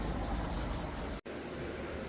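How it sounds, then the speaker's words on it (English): Rough hand sanding of a Yamaha R3 motorcycle fairing with a 180 sanding block, a steady abrasive scrubbing that stops for a split second and then resumes. "I just got to sanding and spraying"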